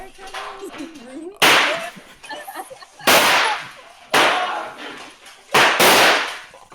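Fireworks go off in four sharp, loud bangs spaced about a second and a half apart, each with a brief crackling tail, and faint background noise between them.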